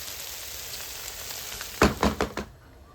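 Chicken pie filling sizzling in a pan over high heat, a steady frying hiss with a short burst of louder crackles as it is stirred, then quieting.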